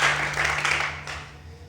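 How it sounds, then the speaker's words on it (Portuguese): A church congregation claps together in a short, steady wash of applause, moderately loud and fading slightly toward the end. "Você pode aplaudir o Senhor nessa noite."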